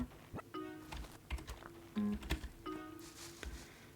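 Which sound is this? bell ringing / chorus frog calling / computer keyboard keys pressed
computer keyboard keys pressed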